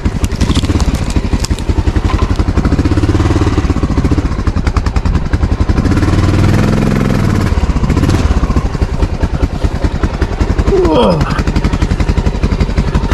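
A Honda XR 650 motorcycle climbing a mountain road, its single-cylinder engine loud and close with a rapid, pulsing exhaust beat that rises and falls with the throttle throughout.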